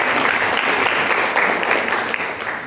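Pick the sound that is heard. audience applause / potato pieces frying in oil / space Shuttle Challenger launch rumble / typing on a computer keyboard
audience applause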